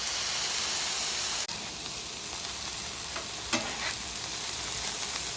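Coconut fried rice sizzles loudly and steadily on a griddle, a dense close hiss with a brief scrape partway through and no talk.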